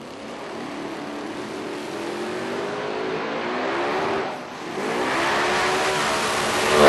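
Drag racing cars launch and roar down the strip, tires spinning as engines scream loudly and steadily, surging again near the end.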